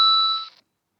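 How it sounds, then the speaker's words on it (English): A short phone notification ding sounds once, a bright two-tone chime ringing clearly and fading within about half a second, alone with no talk. "Sorry, that was a notification if anybody heard it"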